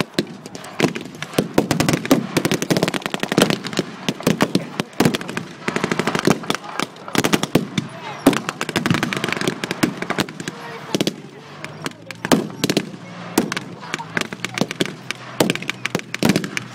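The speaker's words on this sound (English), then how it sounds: "the Bren gun carrier does its work, firing and firing again into those German infantry lines" A Bren gun carrier fires in a Battle of the Ardennes re-enactment at Military Odyssey in Kent, with repeated sharp bursts and single bangs cracking loudly and irregularly throughout.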